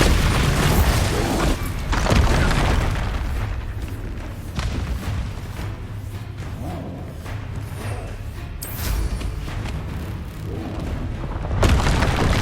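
In Hogwarts Legacy, several loud Bombarda spell blasts boom amid combat, with a heavy thump opening, repeated impacts and crackling debris, and another sharp blast near the end.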